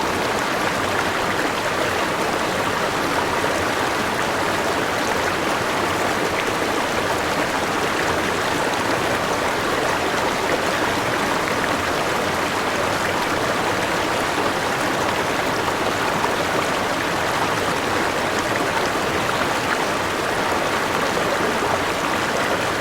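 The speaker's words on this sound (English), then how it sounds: "Next crossing's Gaffneys Creek, and we're just about at camp." Water of Gaffneys Creek runs over a bush track crossing near Woods Point, a constant dense hiss and babble that stays even and close throughout with nothing else standing out.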